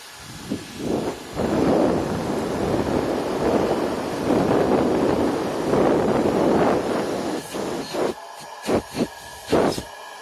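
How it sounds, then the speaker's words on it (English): An Electrolux Model L vacuum cleaner running as a blower gives a loud, steady rush of air for several seconds, followed by a few short, separate bursts near the end. "it can be a blower"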